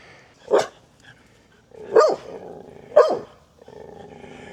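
Dogs barking at a newly set up yard statue: three loud, separate barks about a second apart, each followed by low growling, close by with no talking.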